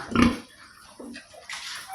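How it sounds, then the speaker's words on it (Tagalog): Pregnant Large White sows grunt and snort nearby in a pen, a loud grunt followed by softer snuffles and shuffling, with no talking. "Ito po yung mga inahin namin. Mga buntis na po yan."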